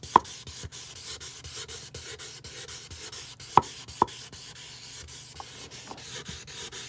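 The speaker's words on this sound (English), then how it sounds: "The wet sanding is getting rid of all the little, like, dimples in the plastic" Wet sanding smooths the pitted plastic housing of a CleanView 2 model 3574 vacuum cleaner with steady, close, quiet rubbing strokes and a few sharper clicks of contact, with no talking.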